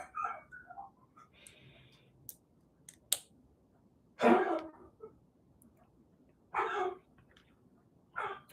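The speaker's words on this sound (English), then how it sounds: "but she is coughing still" A few short, faint coughs break a quiet room, spaced a second or two apart with soft rustling between them.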